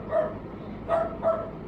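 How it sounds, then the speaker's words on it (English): A dog barks three times indoors, short sharp yaps at moderate distance, the first alone and the last two close together, over a faint room hum. "Excuse the dog."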